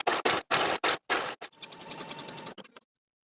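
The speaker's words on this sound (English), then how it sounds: "I'm simply going to serge the entire bottom of my blouse" A serger overlocking the bottom hem of a cropped blouse, several loud, fast whirring bursts separated by short pauses, then a softer, steadier run that trails off into silence.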